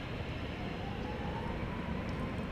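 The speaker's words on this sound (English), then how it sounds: "that may be a plane over on the west side that we hear" Broadband roar of a distant airplane engine at Dallas Love Field airport, steady and continuous with no breaks and a faint rising whine partway through.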